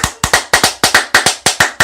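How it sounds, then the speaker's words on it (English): Rapid paired skin slaps from two people in a played adult clip come in a quick, steady double-beat pattern, loud and close, with each doubled hit decaying fast before the next pair. "Double booty clapping sounds."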